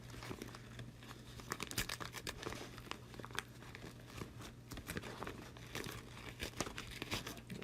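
Tearaway embroidery stabilizer being torn from the stitches of an in-the-hoop bumblebee zippered bag, a faint, close, continuous crinkling and ripping that goes on for several seconds with no talk.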